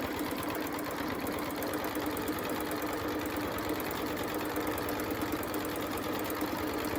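A sewing machine hums and rattles at a steady, fast pace throughout during free motion quilting, close and continuous with no talking.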